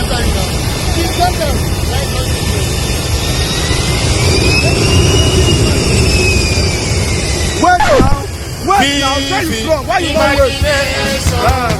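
A plane's jet engine roars steadily on an airport runway in Abuja, a loud sustained whine with a rising and falling tone, then people's voices and shouts come in over it toward the end.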